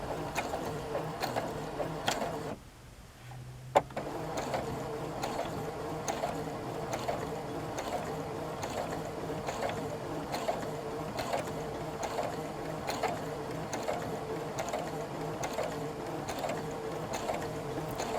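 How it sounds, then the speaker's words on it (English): A sewing machine hums steadily at its lowest speed setting with a faint rhythmic mechanical ticking, pausing briefly near the start before running on evenly, stitching miniature pants. "This sewing machine has like 3 speed settings, and I always have it on the lowest speed setting"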